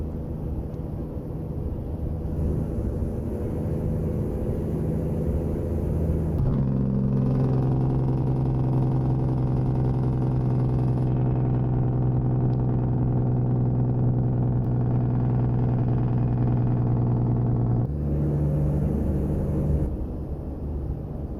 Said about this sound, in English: Absolutely love the sound of this engine.